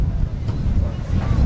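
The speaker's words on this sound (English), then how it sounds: "It's extremely windy here at the DFA Technical Center." Strong wind buffets an outdoor microphone at a football technical centre, producing a loud, continuous low rumble with gusty surges that mask everything else.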